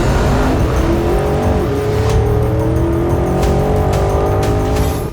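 A Porsche Cayenne Turbo GT SUV accelerates hard through a fast turn on a track, its engine note climbing steadily under load with faint tire squeal, loud and continuous throughout.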